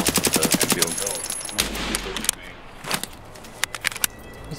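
Rifle fire from another player in Escape from Tarkov rings out as a rapid burst of sharp shots, followed by scattered single cracks and short clusters, with some voice chat in between.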